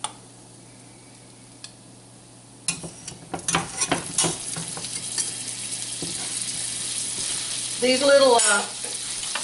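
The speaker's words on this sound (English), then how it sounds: "I'm going to add about a tablespoon of butter." Tablespoon of butter sizzling with pecans in a frying pan, starting with a loud burst of crackling, then a steady close sizzle with stirring scrapes, while a voice briefly speaks near the end.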